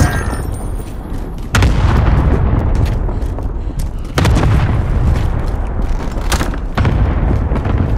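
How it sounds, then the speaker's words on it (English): In a video game, cluster strike explosions land as a run of heavy, loud booms that follow one another quickly, with deep rumbling blasts that come back at irregular intervals and never let up. "Allied cluster strike inbound."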